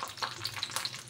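Lump asafoetida dropped into hot oil crackles and sizzles briskly for a moment, close up and steady, while neem flower thuvaiyal is prepared.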